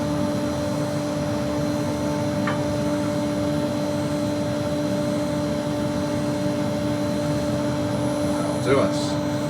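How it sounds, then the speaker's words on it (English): A dust extractor runs in a woodturning workshop, a steady, loud whooshing drone with a constant hum that holds unchanged throughout, with a couple of faint knocks. "We'll turn the extractor off."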